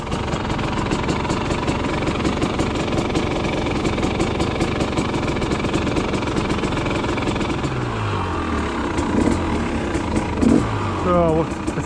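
A rebuilt 300 TPI two-stroke motorbike engine with an Inova Power ECU reflash runs steadily at idle with a buzzing, knocking tone, then blips and revs briefly near the end.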